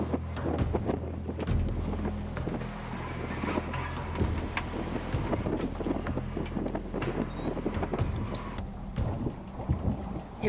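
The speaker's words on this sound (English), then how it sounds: "Winds picked up and they stayed up." Loud, gusty wind roars and buffets the microphone continuously on a sailing boat crossing Bass Strait, with rumbling low noise and scattered knocks and creaks throughout.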